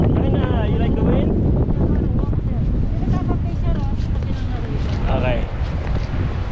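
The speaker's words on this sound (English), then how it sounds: "It's so windy right now." Strong wind buffets the microphone on the deck of a large, crowded cruise ship in Juneau, Alaska, a constant rough roar that runs throughout.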